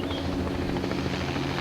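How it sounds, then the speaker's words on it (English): A helicopter approaching from behind at Anacapa Island, its steady rotor and engine roar loud and continuous throughout. "you can hear the helicopter coming in from behind"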